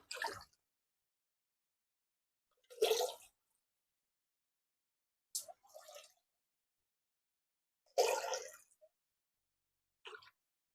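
Water poured over a child's head in separate short splashes, about five pours with silent gaps between them, close and fairly quiet, each a brief wet splash and drip.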